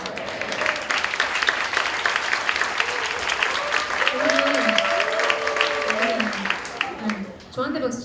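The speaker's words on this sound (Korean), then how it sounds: "저한테 박수 치지 마세요." A church congregation at a Korean young adults' Sunday service breaks into steady, dense applause for the preacher after a sermon point on the cross, sustained for several seconds while someone speaks over it, then thinning out near the end.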